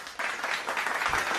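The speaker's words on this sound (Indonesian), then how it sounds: "Yuk, semua kita berikan tepuk tangan untuk kelompok 1." A class of schoolchildren breaks into brief applause for a group that has just presented, a short burst of many hands clapping together at close range.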